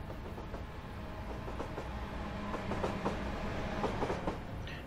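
A train rolls along with a steady rumble and repeated rhythmic clickety-clack of wheels over rail joints, fairly faint and distant, with no talking.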